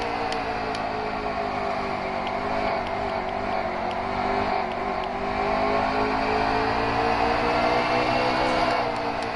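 Onboard race car engine in a Miller Lite Cup Series race at Bristol, a loud continuous drone with the pitch rising and falling as the driver works the throttle around the track.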